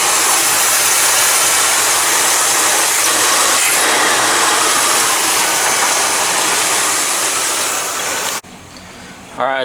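A warmed-up 1970 Cadillac engine idles close by, a steady, loud broadband hum with even mechanical chatter that holds without break, then drops abruptly near the end.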